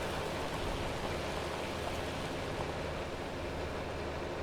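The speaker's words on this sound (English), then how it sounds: "Seems like the rain's slowing down." Steady broadband rain hiss in Farming Simulator 25, an even, unbroken wash of falling rain with a low rumble beneath, constant in level throughout and with no voices over it.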